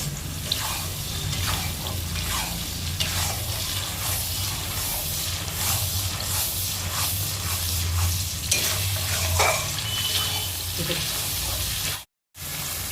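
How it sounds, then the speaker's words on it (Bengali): Spice paste for shahi chicken is stir-fried in a pan, giving a continuous close sizzle with repeated stirring scrapes, then a brief cut to silence near the end. "এবার এটাকে ভালোভাবে কষিয়ে নেবে।"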